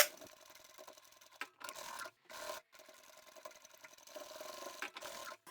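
A sewing machine stitching the lining tabs of a zippered pouch, its rapid mechanical chatter running in several short bursts broken by brief pauses, close and fairly quiet.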